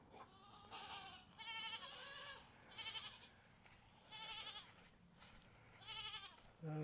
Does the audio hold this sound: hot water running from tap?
no